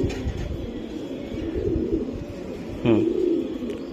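Soft coos from several racing pigeons close by in a loft, over a steady low rumble of flock noise and fluttering.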